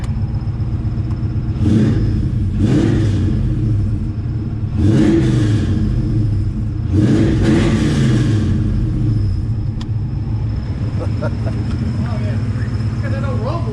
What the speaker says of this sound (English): let me hit it for you, Dover. It sounds great. It sounds fantastic. Revving it up a little bit.